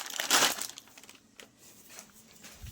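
Packet of sev snack crinkling, a sharp crackling crumple burst near the start, then softer scattered rustles of the plastic wrapper, close by with no talk.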